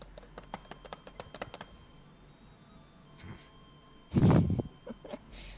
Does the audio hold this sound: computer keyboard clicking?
yes